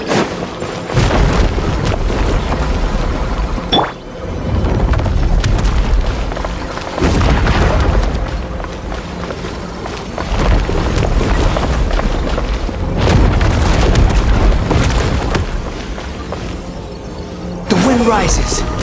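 In a video game, a breakable wall is blasted with loud, deep booming bursts and rumbling impacts that recur through the scene under frequent talking voices.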